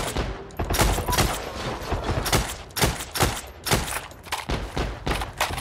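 Rapid bursts of gunfire from a World War era shooter, Heroes & Generals, crackling in dense, uneven volleys with heavy thuds, loud and close throughout without any talking.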